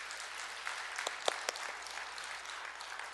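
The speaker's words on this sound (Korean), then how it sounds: "자, 한 박수를 격려합시다." A church congregation applauds the choir after a hymn, steady moderately distant clapping from a crowd that holds evenly with a few sharper individual claps standing out, no speech.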